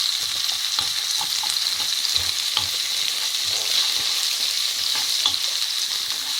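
Chopped onion and chilli fry steadily in a pan over low to medium heat, giving a continuous close sizzle with occasional soft stirring scrapes and no talking.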